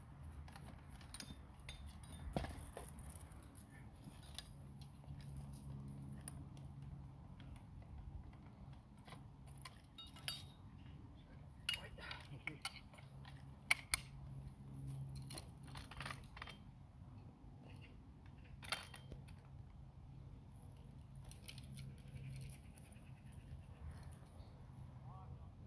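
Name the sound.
Vickers machine gun being dismounted during drill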